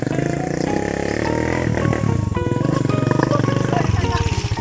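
A motorcycle engine labours on a rough rural path with a loud, continuous, throbbing drone that rises and falls as it strains. A voice talks over the engine.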